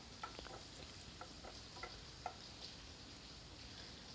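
Ten to twelve garlic cloves sizzle in hot oil in a pan, a soft steady frying hiss with faint ticks and light stirring clinks, fairly quiet and without voices.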